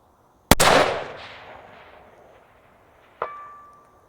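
A CMMG Endeavor AR10 rifle chambered in 6.5 Creedmoor fires a single sharp, loud shot that rolls away in a long echo, and about three seconds later a fainter metallic ring from the distant steel target answers it.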